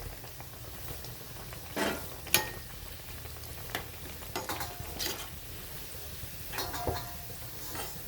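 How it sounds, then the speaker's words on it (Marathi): Bottle gourd vadis deep-frying in hot oil on a full flame, a soft steady sizzle with scattered crackles and a few louder pops, fairly quiet and close. "आता आपण काढून घेऊ आणि राहिलेले अशाच तळून घेते"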